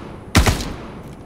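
A short, loud burst of gunfire from the video game Star Citizen, with two rapid close shots and a quick decay, and no voices.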